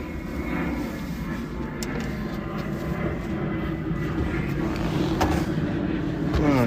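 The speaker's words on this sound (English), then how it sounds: "There's a plane flying overhead." A plane passes overhead as a continuous low roar, broad and steady, swelling slightly toward the end, with no talk over it.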